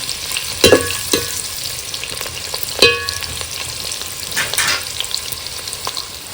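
Onions sizzle steadily in hot oil, a close crackling hiss punctuated by a few sharp clanks of a spoon stirring the pan.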